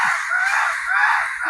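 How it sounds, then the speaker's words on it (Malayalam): Crows caw loudly and close by in a harsh, continuous chorus of overlapping calls, drawn in by a man calling them. "അവൻ്റെ വിളി അനുസരിച്ച് കാക്കകളുടെ എണ്ണം കൂടി വരുന്നുണ്ട്."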